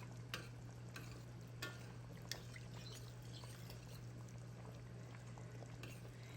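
A spoon stirs cornstarch and cold water through a chicken pot pie mixture in a pot, giving faint, steady liquid swishing and soft scraping with a few light taps against the side, under low hum and without talk.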